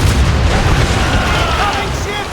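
Ship cannon fire in the naval combat of Assassin's Creed Rogue, a loud booming blast with a deep rumbling tail that fills the moment, with shouting voices mixed in.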